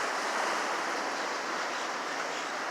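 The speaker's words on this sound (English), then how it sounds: "over here on the beach, right here on the ocean" Surf rolling onto the beach beside St. Johns County Pier in St. Augustine, a steady broadband wash with no distinct breaks, continuous and fairly close, no voices.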